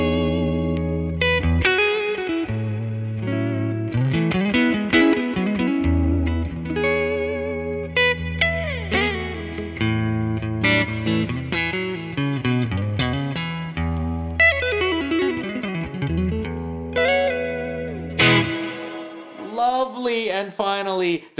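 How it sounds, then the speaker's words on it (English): An electric guitar runs through One Control Prussian Blue Reverb and Twanger pedals via a loop switcher, playing sustained chords and single-note runs with lush reverb and twangy, slightly gritty tone, loud and continuous. "Now let's turn on the Prussian Blue Reverb with the Twanger."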